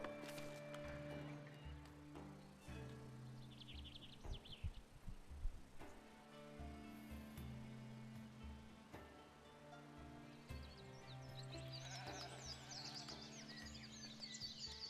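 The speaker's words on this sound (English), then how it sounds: "Look at all our sheep." Sheep in the Foundation video game bleat repeatedly against a soft background of game ambience and music, with several overlapping calls of varying pitch, some close and some farther off, plus faint bird-like chirps toward the end.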